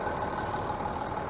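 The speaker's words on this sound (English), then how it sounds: "as you can hear, that car ticks over perfectly" Steady diesel idle from a 2008 Range Rover Sport's 2.7 turbocharged V6, a smooth continuous low rumble recorded up close, brief and constant with nobody talking.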